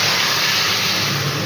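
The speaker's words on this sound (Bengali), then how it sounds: "এবার মাছের ঝোলটা ঢেলে দেবো।" Fish curry broth hits hot tempering oil seasoned with nigella and radhuni seeds and chilli powder, giving a loud, steady, close sizzling hiss that runs unbroken for the whole moment.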